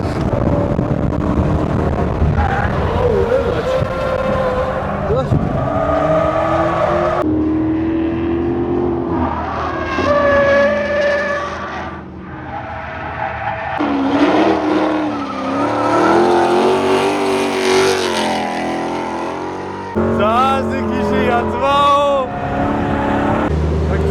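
A car drifts with squealing tires and a revving engine whose pitch rises and falls, loud and near, while people talk over the noise.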